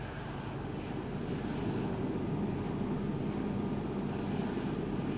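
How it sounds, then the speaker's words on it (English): An aircraft's second engine spools up in the X-Plane 10 flight simulator, a continuous, even roar and drone that holds steady throughout. "We'll start engine 2 first."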